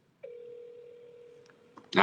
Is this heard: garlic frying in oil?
no